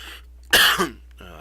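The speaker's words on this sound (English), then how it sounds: "Sorry for the cough." A single sharp cough, close and fairly loud, breaks a quiet stretch during a Magic: The Gathering match commentary.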